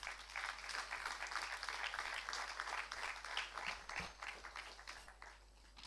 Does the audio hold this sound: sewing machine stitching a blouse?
no